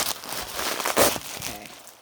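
Scissors cutting through tape and paper wrapping on a package of antique silver decor, with crinkling, rustling and crunchy snips close up, one louder cut near the middle.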